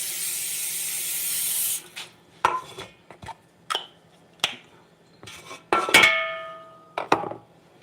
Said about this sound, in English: I'm going to go ahead and spray my pan down.